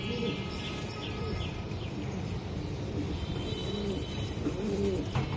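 Racing pigeons in a loft with eggs and chicks give soft, repeated throaty coos over a steady background hiss, with faint chirps mixed in.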